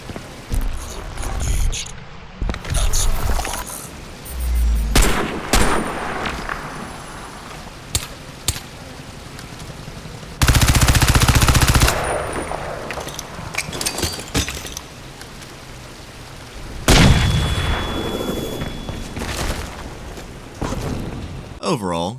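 Gunfire and explosions from the video game Crysis 2 Remastered: sharp cracks, metallic clinks and several loud booming blasts in irregular bursts, interleaved with game audio.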